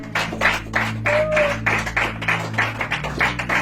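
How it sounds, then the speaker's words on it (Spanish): A church congregation claps in rhythm, a steady series of loud, near claps with a sustained low hum beneath and a brief tonal whistle in the middle. "¿Cuántos le pueden dar un fuerte aplauso para el Señor?"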